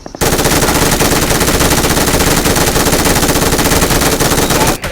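Automatic machine-gun fire in a video game rattles nonstop for nearly five seconds as one loud, rapid, sustained burst that cuts off abruptly, with no talking.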